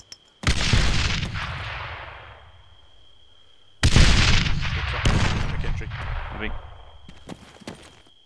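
Two frag grenades going off in a military video game, each a sharp, loud blast followed by a long rumbling decay, the second arriving about three seconds after the first, with faint radio chatter between.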